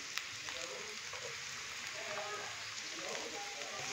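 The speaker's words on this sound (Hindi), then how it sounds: "सब्जियों को मैंने अच्छे से मिक्स करके तो हल्का सा फ्राई कर लिया है" Carrots, capsicum and cabbage stir-fry in a pan for egg chow mein, giving a soft, continuous sizzle with light crackles and stirring noises, fairly quiet and close.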